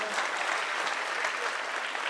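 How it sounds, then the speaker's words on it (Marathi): A live audience claps together in steady, dense applause at an event honouring students who became self-reliant, continuous and even for the whole stretch, with no voices over it. "या सर्वांसाठी आपण एकदा जोरदार टाळ्या वाजवूयात"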